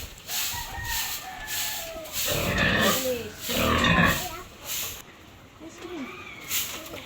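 Pigs grunt and squeal in a piggery while the floor is being swept, bursts of noisy scraping and snorting rising and falling over several seconds with a voice speaking nearby.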